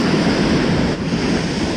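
Ocean surf washes steadily onto an East Sea beach at Bongpo near Sokcho, a dense continuous roar of breaking waves with wind buffeting the microphone.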